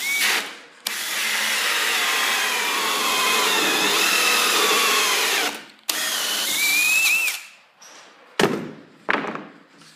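Loud combi drill grinding through wood with a hole cutter, a long continuous bore, then a shorter burst followed by a few thuds and knocks.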